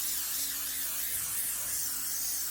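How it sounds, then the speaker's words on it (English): A can of Pam baking spray hisses steadily onto the bottom and sides of a baking dish, a continuous close airy spray lasting a couple of seconds. "I'm going to spray the bottom and the sides of my baking dish with Pam."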